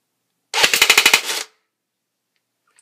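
A G&G UMP .45 airsoft gun fires a quick, close burst of about seven sharp, evenly spaced shots that ends abruptly, followed by near silence.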